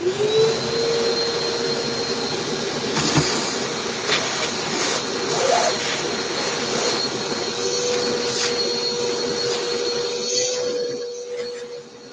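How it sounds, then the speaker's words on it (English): A vacuum cleaner runs continuously and close by, with a loud steady motor whine and a few knocks and bumps from the attachments, no talk. "And then put any attachments on the vacuum."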